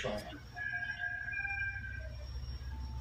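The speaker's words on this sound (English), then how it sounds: "The rooster's not too happy." Rooster crowing faintly in the distance, one long drawn-out crow over a low rumbling background, with a sharp knock at the start.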